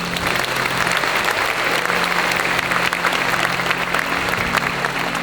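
Sustained applause from a crowd at a pastor ordination ceremony, many hands clapping steadily and fairly loud for several seconds.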